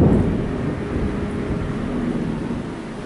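Deep, continuous thunder rumbles steadily and loudly throughout, a broad low roar with no clear breaks and no voices over it.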